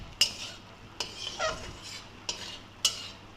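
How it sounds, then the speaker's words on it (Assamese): A spoon scrapes and clinks against a pan as khar is fried and stirred until it dries, a handful of sharp distinct strikes over a soft, quiet sizzle. "এইখিনি এতিয়া আমি খাৰখিনি শুকোৱালৈকে ভাজি থাকিম"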